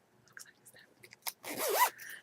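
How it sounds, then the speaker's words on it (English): A clothing zipper is pulled open in short tugs, with a louder and longer zip near the end. It is close and fairly quiet, with no one speaking. "I'm just going to open the zipper 27 times."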